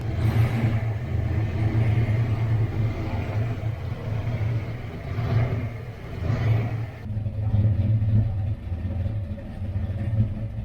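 A turbocharged Foxbody Mustang engine idles steadily after startup, a close, continuous low rumble with slight revving swells throughout and no talk.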